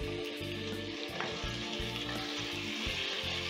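Potatoes and carrots sizzling with golden fried garlic in a pan for beef stew, giving a constant loud frying hiss with faint scraping stirs and no voices.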